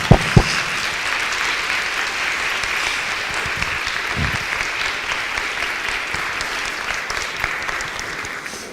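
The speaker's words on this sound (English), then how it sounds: "Let's give another round of applause." An audience at a Trinity Women gathering gives steady applause, a continuous even patter of many hands that stays fairly soft and unbroken throughout.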